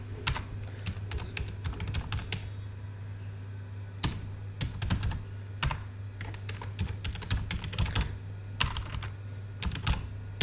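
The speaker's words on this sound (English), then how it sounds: "So I am typing here." Steady clatter of keys on a computer keyboard, quick irregular taps in bursts with short pauses, close and fairly quiet, no talking.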